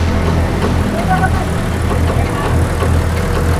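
A tractor engine idling steadily in first gear with a heavy-duty PTO trailer hitched, a loud continuous low rumble that holds unchanged, with a voice talking over it.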